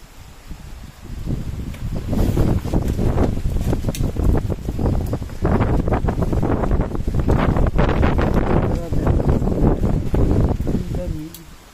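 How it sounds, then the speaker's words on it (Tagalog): Strong wind roars steadily against the microphone, gusting louder through the middle, with a faint bird call near the end. "Lakas ng hangin."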